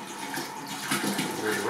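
Clean water pours in a continuous, rushing stream into a container to dilute a spirit of about 60 degrees down to around 25 degrees, the splashing swelling slightly louder toward the end, with no talk over it.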